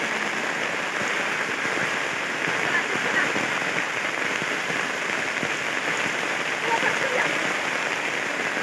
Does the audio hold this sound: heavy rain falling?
yes